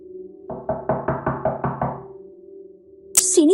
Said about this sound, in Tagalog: Hindi nagtagal ay narinig nilang may kumatok sa pinto.